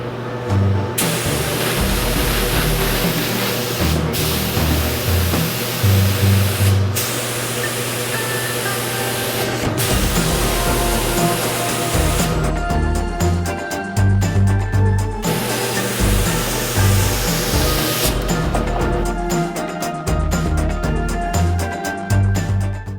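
Spray gun laying a second coat of black paint on a Kia Stinger GTS body, long continuous hissing bursts separated by brief pauses, loud and close.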